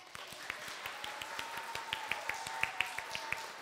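Preschool children applauding a clarinetist at a chamber concert, many small hands clapping in a steady, rapid patter with sharper individual claps standing out, a faint sustained tone lingering underneath.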